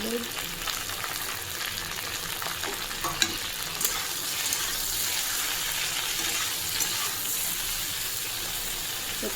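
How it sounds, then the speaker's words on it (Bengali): Okra dusted with turmeric frying in a pan, a steady close sizzle with soft stirring and scraping, faint clinks now and then, no talk. "এদিকে ভাজা হতে থাক"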